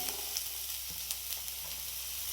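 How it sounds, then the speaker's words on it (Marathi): Upma ingredients frying in a pan: a steady, fairly quiet sizzle with a few small pops and stirring scrapes, close up and without talking. "आता हे माझं फ्राय होतंय असं मस्त"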